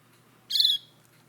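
A small rescued wild bird gives a single bright, high chirp lasting about a quarter second, close and fairly loud against a quiet room.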